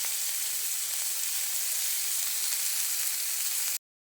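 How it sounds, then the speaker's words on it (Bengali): Onion, green chili and chopped tomato frying in oil make a loud, dense, unbroken hiss of sizzling up close, holding steady until it cuts off abruptly near the end, with no speech. "এবার আমি তেলের মধ্যে পেঁয়াজ আর কাঁচা লঙ্কাটা দিয়ে একটু ভালো করে নেড়ে চেড়ে তার মধ্যে টমেটো কুচিগুলো দিয়ে দেবো।"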